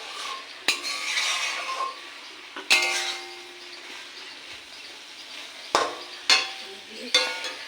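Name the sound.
cooking chola kochu curry with fish head, frying and stirring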